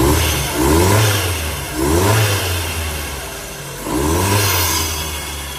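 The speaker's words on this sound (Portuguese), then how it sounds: "Uma acelerada nele aqui." A car engine in a workshop, run with the intake pipe still off and turbo fitted, revved three times in swelling bursts that fall back to a rough idle between, loud and close with a metallic clatter.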